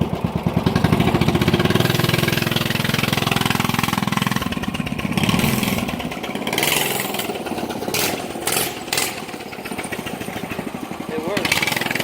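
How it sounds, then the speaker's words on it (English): A big block pocket bike fitted with a 6.5 hp motor runs loud and close on its first test run, a steady buzzing engine drone with a few revving changes, while people talk over it. "We got the big block pocket bike out for its first run."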